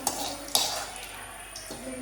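A spoon or ladle stirs payasam in a metal pot, with two sharp clinks against the rim early on, then softer scraping and faint clatter close by.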